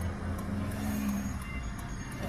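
Tipper lorries returning from the ECRL railway project rumble past with a steady, heavy low engine drone and a faint whine above it, close by and alone without talk.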